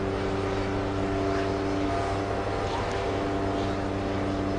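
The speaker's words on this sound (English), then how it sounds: "JetBlue taking off." JetBlue jet taking off at JFK, a distant broadband engine roar beneath steady tonal droning hum, continuous and moderately faint.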